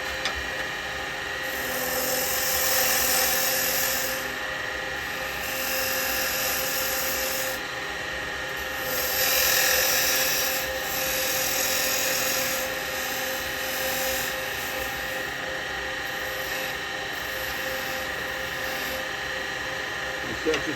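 A wood lathe turning while a carbide tool cuts a tenon on the bottom of a workpiece, giving a continuous close whirring hum with scraping cutting swells rising and falling, and a voice faintly under it.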